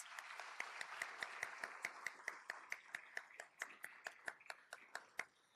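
Scattered hand clapping from a small crowd at an awards ceremony, quick irregular claps building steadily, fairly close, with no talking over it.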